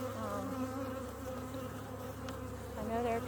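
Honeybees buzz at an open hive, a dense, steady drone of many wings, continuous and close throughout.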